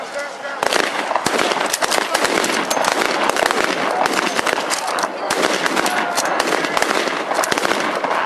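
Blank-fire rifle volleys at a Vimy battle reenactment, a dense rattle of shots crackling continuously for several seconds, loud and close, with shouted commands and voices mixed in among the firing.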